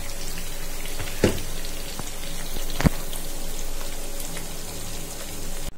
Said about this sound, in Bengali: এবার আমি কেটে পরিষ্কার করে রাখা পাতাকপিগুলো দিয়ে দিব।